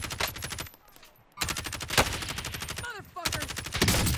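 Rapid bursts of pistol and automatic gunfire in the video game Call of Duty Warzone, loud repeated volleys broken by two short lulls, with a player talking over parts of it.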